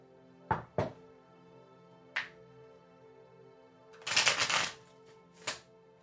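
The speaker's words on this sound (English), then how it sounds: "I'm shuffling." Tarot cards from a Rider Waite Smith deck being shuffled by hand, heard as a few short riffling bursts followed by a longer, louder shuffle and one final flick, close and clear with no talking.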